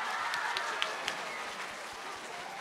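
An audience at a pre-release event for the film Karada Sagashi cheers and applauds, a dense, steady wash of clapping with a few louder claps standing out.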